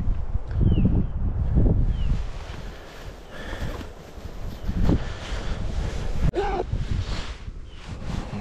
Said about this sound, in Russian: Ветерок дует.